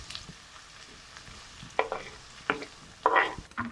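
Finely chopped onion cooking in a pan for chole, with a low steady sizzle and a few sharp scraping bursts as it is stirred, fairly close and without talk.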